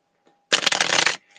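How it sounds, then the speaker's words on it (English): Tarot cards being shuffled in one dense, continuous riffle lasting under a second, close and fairly loud, with a faint steady hum before and after. "And I'm shuffling the cards."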